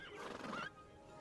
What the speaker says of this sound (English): let's move the horses over to here. I just want the animals away from me. They're so loud.